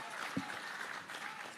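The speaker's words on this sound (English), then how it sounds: "another rousing round of applause" Audience applause at a bus handover ceremony for the Prime Minister in Jamaica, a steady, fairly faint patter of clapping from a crowd with a brief thump partway through.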